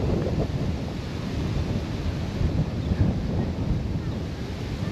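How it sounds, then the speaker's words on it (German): Strong wind blasts across the microphone outdoors near a Roman Catholic church in a village, a dense, continuous low roar that gusts and swells without pause. "Und ist gerade ziemlich windig."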